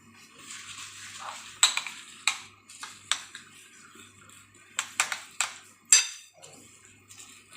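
Eggs beaten with salt in a bowl for a puffed-rice omelette, a run of sharp metallic clinks and scrapes from a utensil against the bowl at an irregular pace, close and fairly loud, with no voices.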